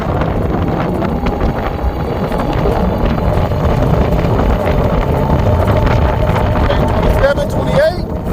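A HappyRun G60 Pro electric moped rides at full throttle, loud rushing wind buffeting dominating over a faint motor whine, with a steady roar throughout and a few short rising whistles near the end.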